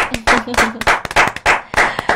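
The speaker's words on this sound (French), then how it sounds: "je vous demande d'applaudir très très fort pour Brigadier." Clapping for Brigadier at a live buzz event: loud, close bursts of hand claps in uneven clusters, mixed with voices shouting and talking over them.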